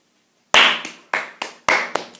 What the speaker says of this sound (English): It deserves a clap.